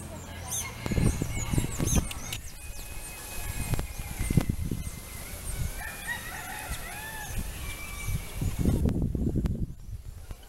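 Calls of teal ducks at Pedra da Cebola park in Vitória, Espírito Santo, come in short, fairly close bursts through the middle of the clip over busy outdoor background noise, with other noises at the start and end.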